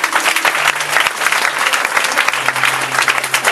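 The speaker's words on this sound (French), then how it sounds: "Acclamez cette parole" A church congregation breaks into steady, enthusiastic applause during a sermon, many hands clapping together in a dense, lively wash that holds throughout.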